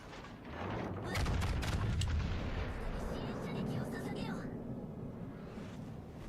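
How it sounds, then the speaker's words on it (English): Naval guns of the ship Worcester fire in World of Warships: Legends as a steady, rumbling barrage with repeated muffled booms under continuous talking. "Come on, Worcester. Shoot your guns."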